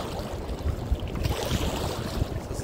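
A waterfall roars steadily and close, a dense rushing wash of water with low rumbling surges and some wind buffeting, with no voices.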